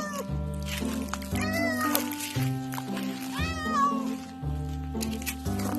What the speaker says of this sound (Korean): 저 안에 고양이가 있어요